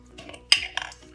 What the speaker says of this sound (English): Now I'm gonna put the coconut cream in a small saucepan